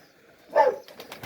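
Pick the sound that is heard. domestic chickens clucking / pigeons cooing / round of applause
pigeons cooing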